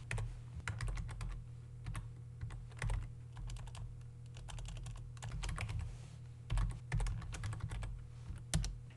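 Keys clatter on a computer keyboard as a directory path is typed at a Windows command prompt, quick irregular bursts of close clicks with short pauses, alone over a faint low hum.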